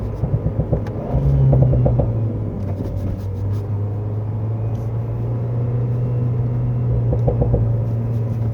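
A 2022 Renault Alpine A110 mid-engine sports car rolls slowly on a winding road, its engine a low steady drone with a faint whine, plus a few soft thumps near the start and toward the end.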